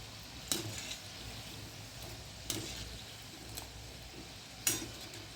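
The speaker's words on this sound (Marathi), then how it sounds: "बारीक मंद आचेवरच भाजायचं ह्यांना चांगलं पाच मिनटं भाजायचं म्हणजे छान खुसखुशीत होतात" Shankarpali, small pieces of maida dough, fry in oil over a low flame, giving a faint, steady sizzle broken by three brief clinks, probably from stirring.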